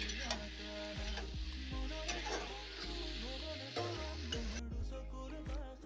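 Pork sizzles steadily in a pan with cumin seeds, with occasional scraping and stirring clatter close by throughout.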